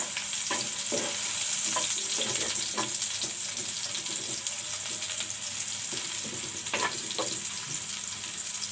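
Onion frying in a pan with crushed garlic and dried chili, a continuous soft sizzle with a few stirring knocks, moderately quiet and close, no talk.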